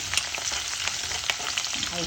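Curry leaves fry in hot oil for an elephant apple pickle, a steady close sizzle with crackling pops and occasional stirring scrapes.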